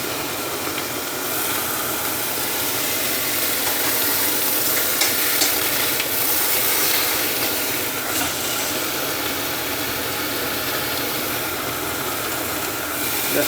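Steaks searing in a hot pan give a loud, steady hiss and crackle that holds evenly for the whole stretch, with faint clatter on top and no voices.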